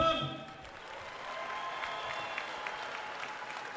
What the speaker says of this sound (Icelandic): Bara klapp fyrir honum!